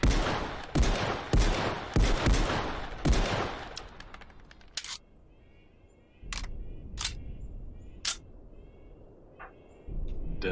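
Desert Falcon pistol fired on a range in Contractors VR: a rapid string of sharp, loud cracks at the start, then a pause, followed by several spaced single shots ringing out with short echoing tails.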